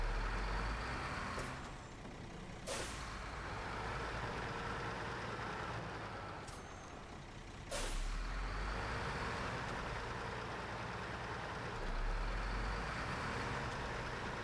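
Heavy truck engine in SnowRunner rumbling steadily, with two sharp hissing air brake releases, one near the start and one about midway, over continuous low drone.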